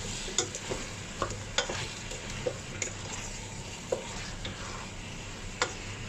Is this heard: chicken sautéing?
yes